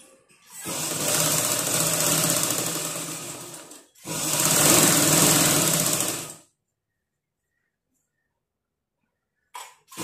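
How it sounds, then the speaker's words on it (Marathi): A sewing machine stitches fabric in two loud, continuous bursts of a few seconds each, separated by a brief pause and followed by silence. "हे आपण स्टिच करून घेऊया आता."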